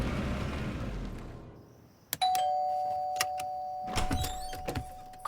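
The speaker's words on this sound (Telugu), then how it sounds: "కాలింగ్ బెల్ ఎందుకు కొట్టారండి?" An electric calling bell rung at the front door of a house: a sharp click, then a long, steady electronic ringing tone, with a few quiet clunks and knocks around it, fairly faint and with no talk.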